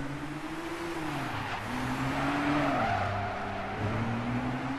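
A Nissan GT-R V-Spec 2009 laps Tsukuba circuit, its engine note loud and steady with pitch climbing and dropping through gear changes, and tires squealing at moments through corners, with no talk.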